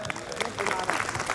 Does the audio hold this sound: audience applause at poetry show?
yes